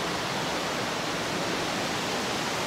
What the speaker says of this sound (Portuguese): A cachoeira do Félix em Bueno Brandão.